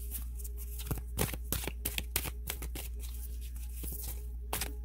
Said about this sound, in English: I'm flipping all the cards around